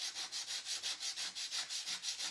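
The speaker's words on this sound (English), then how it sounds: "So I'm thinking if I come back with this and sand this" Rhythmic back-and-forth sanding of a wood piece with 120-grit sandpaper during an upcycling project, about a dozen steady strokes in just over two seconds, close and alone with no talk.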